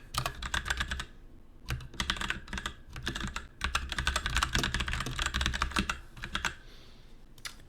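Rapid typing on a computer keyboard, with bursts of clicking keystrokes separated by brief pauses, close and fairly quiet.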